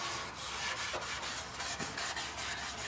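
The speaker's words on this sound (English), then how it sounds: "not a bad idea just to scuff it" A car deck lid panel is scuffed by hand before painting, giving a steady rough rubbing and rasping sound in short repeated strokes, close and moderately loud with no talk.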